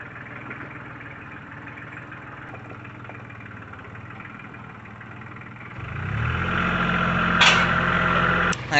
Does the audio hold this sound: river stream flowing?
no